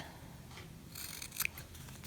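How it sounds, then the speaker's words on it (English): Scissors trim the corners of a fabric ID wallet near the stitching, making a couple of quiet, close snips with a faint crisp click, and no one talking. "I'm going to first start by trimming off these corners, just close to the stitching"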